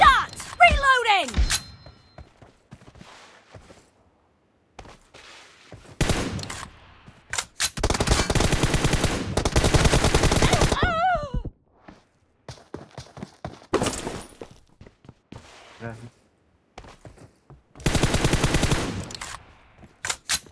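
Gunfire in the battle royale game PUBG: bursts of automatic fire and single shots in separated clusters, with mechanical reload clunks between them and short voice announcements over the action.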